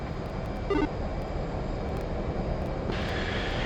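An F/A-18C Hornet jet engine spools up in a flight simulator, a continuous airy roar that grows brighter and louder with a higher whine toward the end, heard alone.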